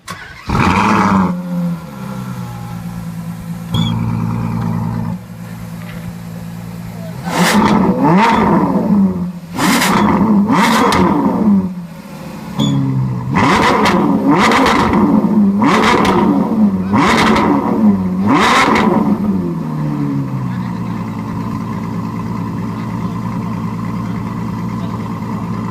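A Ferrari F12 Berlinetta with a Novitec Rosso exhaust revs hard in a series of sharp, loud bursts, each roaring up and dropping back to a rumbling idle between blips.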